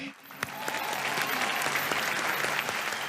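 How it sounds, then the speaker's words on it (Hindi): Audience applause at a Renault car launch event, a dense, steady wash of clapping from a crowd that swells in after a brief quiet start and continues evenly throughout. "ओह लवली, तालियां।"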